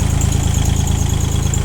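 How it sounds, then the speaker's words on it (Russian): Three-cylinder tractor engine idling steadily at close range, a loud, even low rumble with a regular pulsing beat and no other sounds over it. "Двигатель трехцилиндровый у нас здесь, поэтому работает он также достаточно чисто."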